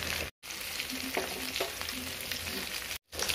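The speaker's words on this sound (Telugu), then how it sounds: "కొబ్బరి, పల్లీలు, నువ్వులు వేసి ఇవి మంచిగా వేగుతున్నాయి కదా." Coconut, peanuts and sesame seeds fry in a pan for a Telugu bitter gourd dish, giving a steady close sizzle with light stirring scrapes, cut off briefly twice, no voices.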